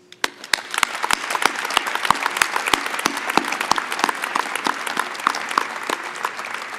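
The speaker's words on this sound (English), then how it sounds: "joining us on our big round of applause for all the people in the balcony and in the back seats" Audience applause at a university business school graduation ceremony in a large hall with balcony seating, a steady full round of clapping from many people lasting throughout, fairly close and loud with sharp individual claps standing out.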